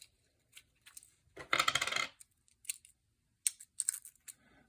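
An old coin battery being pried out of a Volvo S60 key fob, heard as a series of small close plastic clicks, taps and scrapes, with one longer rattling scrape in the middle, and no talk.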